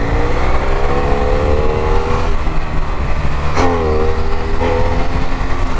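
A BMW F800 motorcycle pulls hard on an open road, its engine note rising through several revving climbs with shifts in between, loud and close, with no talking.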